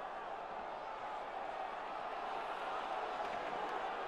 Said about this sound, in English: The crowd is on their feet, and they're trying to give their teams a little spark.